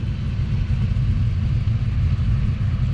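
A turbocharged Pontiac LeMans running 16 pounds of boost on a cold street, its engine giving a steady, loud, close low-pitched rumble with little change across the stretch.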